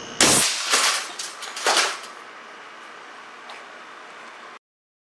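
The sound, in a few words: air cannon firing an aluminum slug at 450 psi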